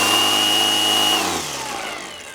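A Milwaukee M18 brushless string trimmer runs at its top 6,200 RPM setting. The motor gives a loud, steady high whine close by, then slows and drops in pitch near the end.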